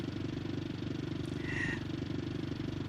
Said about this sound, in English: Sounds like a family saloon with an inline 4.